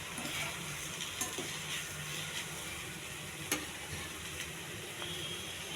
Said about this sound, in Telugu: దొండకాయ ఫ్రై సిమ్లో పెట్టుకుని ఎగర్చాలండి.